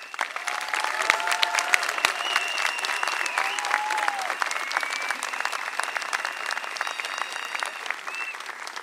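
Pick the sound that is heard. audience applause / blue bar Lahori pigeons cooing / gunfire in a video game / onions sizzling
audience applause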